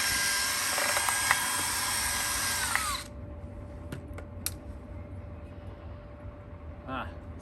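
A flexible dryer duct cleaning rod from a Deflecto kit whirs inside a dryer duct, a loud high-pitched spinning drone that cuts off after about three seconds, followed by quieter scraping and a few clicks.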